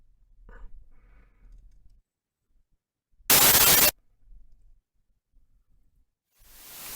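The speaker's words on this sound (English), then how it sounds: "If you generate some white noise" A signal generator puts out white noise in a single loud, flat hiss burst lasting under a second, then another hiss fades in at the end amid near silence.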